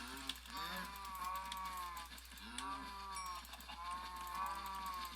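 Minecraft cows lowing in a small enclosed pen, with several overlapping, drawn-out moos repeating close by over a steady low hum, and no talk heard.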